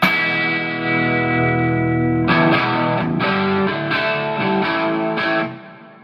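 An electric guitar through a cranked Marshall SV20H 20-watt plexi tube amp into a Fryette Powerstation rings out loudly with heavy overdrive, a sustained chord followed by several punchy strummed chords before fading at the end.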